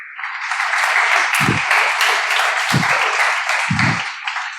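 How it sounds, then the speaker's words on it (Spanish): Loud, sustained applause from a church congregation during a Sunday service, a thick continuous roar of clapping with a few low thumps breaking through at intervals. "Dele un aplauso también a esos hermanos que ahí nos están apoyando siempre."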